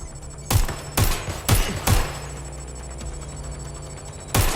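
Gunfire in the Watch Dogs: Legion video game: four loud, close bursts in quick succession, a lull with lingering rumble, then another burst at the end.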